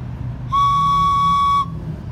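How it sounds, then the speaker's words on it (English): A small handmade Indian whistle is blown once, a single clear, steady high tone held for about a second, loud and close against quiet room background. "So these are whistles."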